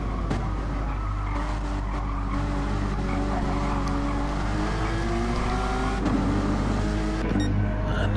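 Race car engines in the Cayman Cup at the Nürburgring GP, in a racing game: a continuous droning engine roar with rising and falling revs as a car lifts, coasts and brakes behind another, with tyre noise mixed in, steady and close.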